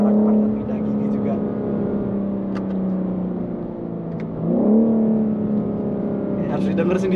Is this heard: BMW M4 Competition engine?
yes